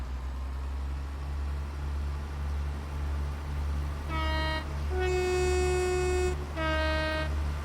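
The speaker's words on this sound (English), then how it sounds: "Do love the two tones on the Class 166s, but my gosh, how loud are the tones?" A Class 166 train in Train Sim World 4 sounds its two-tone horn in three loud blasts, first high, then a longer low note, then high again, over a steady low diesel engine rumble in the London commuter area.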